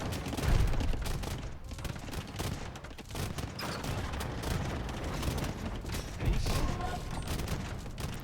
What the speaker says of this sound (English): these hand cannons are so strong